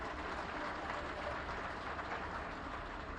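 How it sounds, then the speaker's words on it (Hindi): Sustained audience applause at a public gathering in Delhi: dense, even clapping from a sizeable crowd, quiet and distant in level, holding steady throughout. "तो सभी अधिकारियों के लिए एक बार जोरदार तालियां।"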